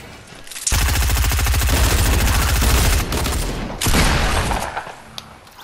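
Loud, sustained automatic fire in Fortnite, a fast rattling stream of shots that drops briefly around the three-second mark, surges again, then tails off into scattered clicks.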